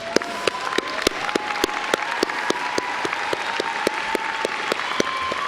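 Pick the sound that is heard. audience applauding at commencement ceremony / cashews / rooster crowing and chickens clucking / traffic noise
audience applauding at commencement ceremony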